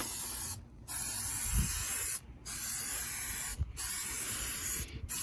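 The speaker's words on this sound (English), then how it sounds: "Don't stand in the fumes of the spray, buddy." Aerosol spray can used while repairing a truck headliner: four long, steady hissing bursts separated by brief pauses, close and loud, with no talking.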